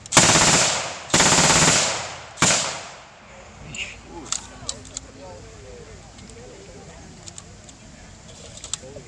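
Three long bursts of rapid automatic gunfire from a WW2 German machine gun, loud and close, followed by quieter scattered clicks and metallic handling noises.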